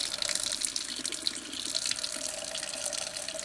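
Warm water pouring steadily from a household faucet, a close, continuous hissing splash with no pauses or voices.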